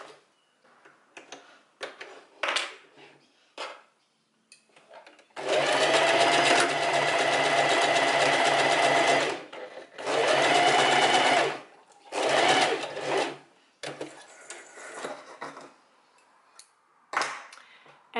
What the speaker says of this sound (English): then we're gonna sew the dart